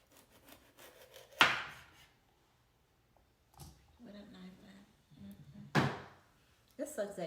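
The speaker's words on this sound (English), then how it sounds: "So you're going to chop everything in small pieces." Thyme and garlic chopped into small pieces with a knife on a board, a few sharp, separated cuts spaced out over several seconds, with quiet talking and handling sounds in between.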